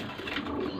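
Kasuri pigeons give a brief, soft, low coo at a moderate distance, lasting under a second.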